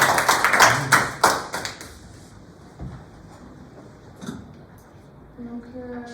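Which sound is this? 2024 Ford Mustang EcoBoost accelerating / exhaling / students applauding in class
students applauding in class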